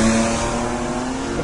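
A college-built formula student race car engine roars on the track, loud and close, as one steady sustained drone with no break or gear change.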